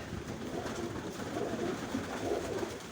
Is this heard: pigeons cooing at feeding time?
yes